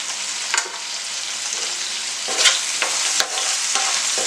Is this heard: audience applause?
no